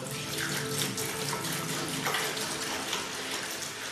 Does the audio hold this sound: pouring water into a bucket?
yes